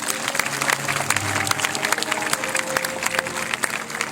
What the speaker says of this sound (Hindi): मैं चाहूंगा जोरदार तालियां बजाएं।